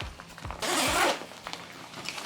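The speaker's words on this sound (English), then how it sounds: "Now let's open the main compartment. Oh, another thing, locking zippers." Locking zipper on the main compartment of an Osprey Fairview 55L travel backpack being pulled open in one quick, close, loud rasping run, preceded and followed by softer handling clicks.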